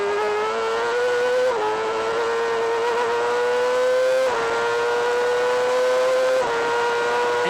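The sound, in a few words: Yamaha and Suzuki 600 Supersport motorcycles racing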